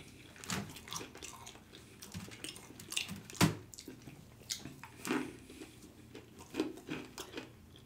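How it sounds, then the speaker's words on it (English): Faint, close chewing of chicken nuggets during an eating challenge, with soft irregular crunches and mouth sounds scattered over several seconds. "Just a lot of chewing."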